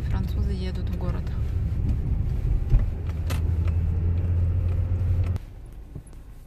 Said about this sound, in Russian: сегодня очень-очень много машин, так как суббота, и французы едут в город